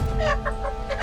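A hen clucks repeatedly in short bursts, close and fairly loud, over a steady low background hum, with no one speaking.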